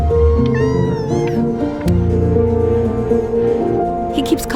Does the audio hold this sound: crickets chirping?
no